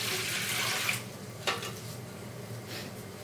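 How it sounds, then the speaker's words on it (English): Tap water runs into a steel idli cooker in a home kitchen, a faint, steady hiss and splash with a couple of small clinks, and no voices. "I have filled this idli cooker with water."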